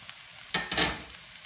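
Ingredients browning in a frying pan during savoury crêpe filling prep, a short soft sizzle with a couple of brief louder bursts, likely from stirring, no talk.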